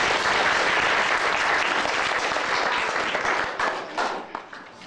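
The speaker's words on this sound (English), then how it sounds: "Give him a round of applause." A crowd claps and applauds loudly and steadily at the Opry House, the ovation tapering off toward the end.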